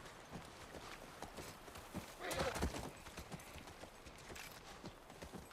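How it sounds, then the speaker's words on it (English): A horse at the ranch in the video game The Last of Us Part I, with close, rhythmic clip-clop hoofbeats walking steadily and a brief louder snort or burst partway through. "Look, by the ranch. That's our horse."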